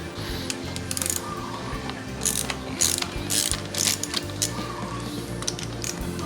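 Ratchet wrench clicking in rapid bursts while unbolting the brake master cylinder from a Honda Forza 350 scooter, close and fairly loud with metallic pawl ticks, no talking.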